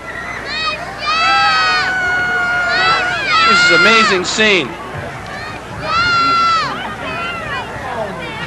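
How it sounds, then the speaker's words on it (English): After a high school football game between the Elgin Maroons and the West Aurora Blackhawks, a large crowd on the field shouts, whoops and cheers loudly in waves while a commentator talks over the din. "Look at that crowd."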